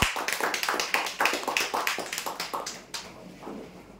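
A small group claps for prize winners at a customer lucky-draw event, in brisk, closely spaced claps that fade out after about three seconds.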